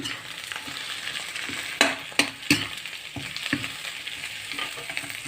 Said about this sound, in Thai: ผัดเครื่องหอมๆนะครับ